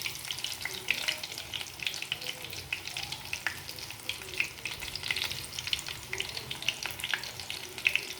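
A batch of breaded chicken fries in hot oil with a continuous crackling sizzle, dotted with sharp pops and spatters at a moderate, close level throughout.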